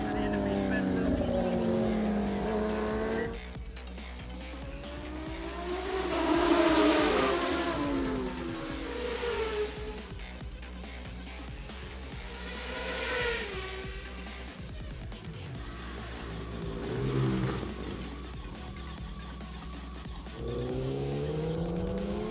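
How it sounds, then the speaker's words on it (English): Honda CBR 1000cc racing motorcycles scream past on a championship road-race track, engines rising and falling in pitch as riders accelerate and shift, several passes at varying distance, with an announcer commentating over the noise. "Kushan Chamod on his Honda CBR 1000cc in the lead"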